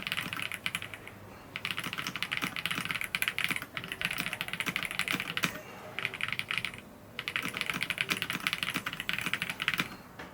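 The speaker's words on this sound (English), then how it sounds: "Now it was time to finally try typing on this keyboard for the very first time," Typing on a Keychron Lemokey P1 Pro mechanical keyboard, rapid close clacking keystrokes in steady bursts with brief pauses between runs, crisp and fairly loud.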